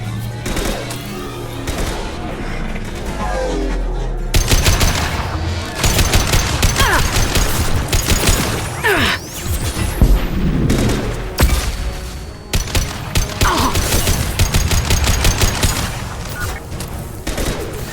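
Rapid gunfire from a firefight in the video game Mass Effect 2, with bursts and repeated shots running loud and dense through most of the stretch, layered over game music and effects, with voices speaking now and then.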